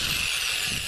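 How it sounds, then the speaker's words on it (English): An electric drill runs on a solar power inverter, giving a steady high-pitched motor whine that holds constant through the brief moment. "Here's our drill. The drill works pretty good."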